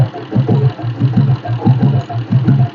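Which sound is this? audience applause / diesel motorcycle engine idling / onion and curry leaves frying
diesel motorcycle engine idling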